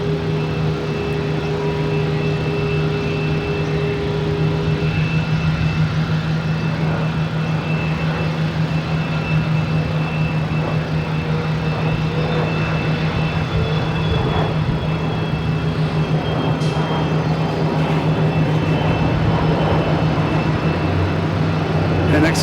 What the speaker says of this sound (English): next taking off is a ghost flight. What is this one? It is a Embraer Phenom.